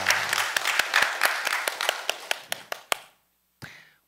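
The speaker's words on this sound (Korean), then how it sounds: "하나님께 영광의 박수 올려드리겠습니다." A church congregation applauds during a Korean Sunday service, with dense clapping that thins into separate sharp claps and fades out, followed by a short pause and one last faint burst.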